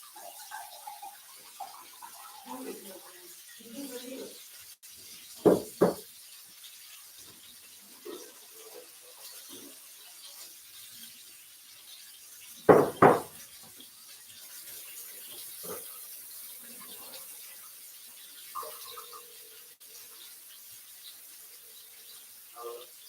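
Tap water runs steadily into a cooking pot for potato soup, a soft, faint wash of flowing water with a couple of brief knocks and clanks partway through.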